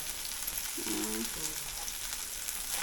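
Garlic, onion, curry leaves and a little coriander sizzle in hot oil in a pan, a steady bright crackle throughout with a brief low clatter of stirring partway through.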